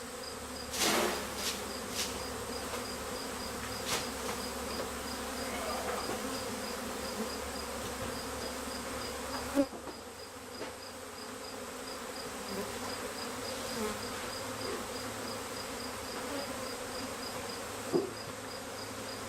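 Faint, continuous buzzing of a honeybee swarm during collection for transfer to a Warre hive, with occasional nearer bees passing and a few light knocks and handling sounds.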